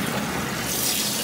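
Water pouring steadily into a Kuppet portable washing machine, a continuous hissing splash with no pauses.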